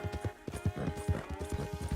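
Rhythmic hoofbeats of a silver dapple pinto Missouri Fox Trotter galloping in a video game, a steady, close clip-clop pattern over a low background hum, with no talking.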